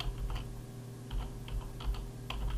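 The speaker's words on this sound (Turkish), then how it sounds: "Posta kodunu yazayım." Steady typing on a computer keyboard while entering an address into Microsoft Word, with irregular bursts of close, light key clicks over a low background hum.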